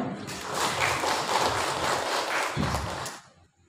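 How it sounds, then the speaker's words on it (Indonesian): Audience clapping at a meeting of women's disability groups: a dense, steady patter of many hands that holds for about three seconds, then thins and fades out. "Tepuk tangan dong"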